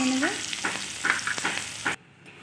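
Eggplant pieces frying in oil in a pan sizzle briskly up close with stirring clatter, the hiss cutting off abruptly near the end.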